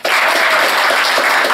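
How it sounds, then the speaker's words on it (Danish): A crowd bursts into loud, sustained applause, dense clapping continuing steadily without pause. "Prøv at klap."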